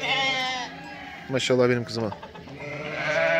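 Milk-fed lambs and their ewes bleat loudly and close as they reunite on a farm, several overlapping cries with someone speaking over them.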